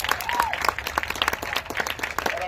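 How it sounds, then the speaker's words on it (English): Applause at a marching band awards gathering, a moderate crowd clapping in quick uneven bursts, with a faint voice or tone briefly audible underneath. "so round of applause for them"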